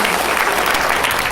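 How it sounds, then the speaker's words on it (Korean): Loud, dense applause of thanks from a crowd at a YouTube-channel coalition launch rally, a thick unbroken wash of clapping filling the whole short moment. "이충호 박사님께도 여러분 감사의 박수를 보내주시기 바랍니다."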